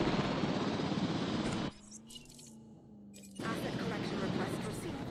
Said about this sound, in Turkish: Dur şimdi ben şu helikopteri alayım.